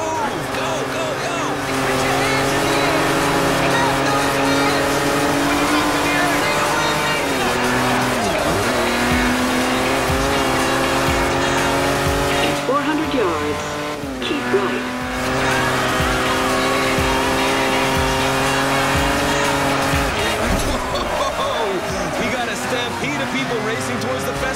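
Engines and tyres of many cars racing toward the festival in the Forza Horizon driving game, a steady loud roar with shifting engine pitches and occasional squeals throughout, mixed with other game sound.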